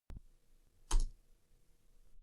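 Two sharp clicks from a computer mouse and an Enter key on a keyboard, one near the start and a louder one about a second later, close and dry against a quiet background.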